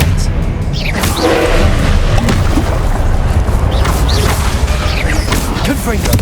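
Expelliarmus disarming spell cast during combat in Hogwarts Legacy, a loud magical burst amid dense, continuous booms, thuds and crashing effects, with other spell impacts layered throughout.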